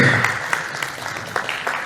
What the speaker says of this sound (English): if you want to clap, you can